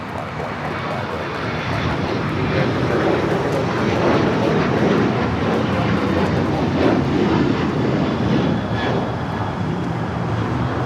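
A jet airliner on takeoff from runway 25 right at LAX gives a loud, sustained engine roar that swells and holds steady throughout, heard at a distance with no talk over it.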